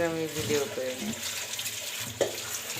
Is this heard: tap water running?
yes